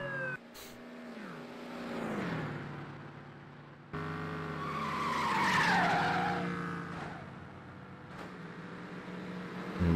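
Aston Martin in the Test Drive Overdrive racing game on Xbox, driving fast with engine revving and tires squealing through long skids, the engine note rising and falling across several slides.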